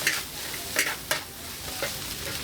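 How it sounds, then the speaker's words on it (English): Egg noodles and rice vermicelli being stir-fried in a wok, with a steady sizzle and a few sharp scrapes and clacks of a spatula tossing them, close and without talk. "she's going to add a combination of egg noodles and rice vermicelli noodles and stir fry it up"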